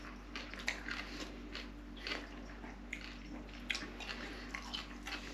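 Crunchy homemade coleslaw being chewed up close, a steady run of moist crackling bites and squishes over a faint background hum, with no talking.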